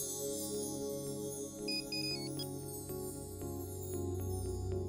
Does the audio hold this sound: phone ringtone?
yes